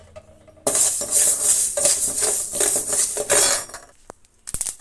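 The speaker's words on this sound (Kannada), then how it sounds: "ಈಗ ಮೆಂತ್ಯ ಹಾಕೋಣ ಮೆಂತ್ಯನ ಹುರಿಯೋಣ" Fenugreek seeds dry-roasting in a pan for rasam powder, stirred with a metal spoon that scrapes and clinks against the pan in quick irregular bursts, then a pause and a few final taps.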